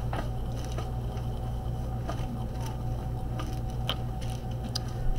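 Needle tool scratching the surface of a ceramic clay lid, producing soft, irregular gritty scrapes and small ticks at a close, quiet level with no talk.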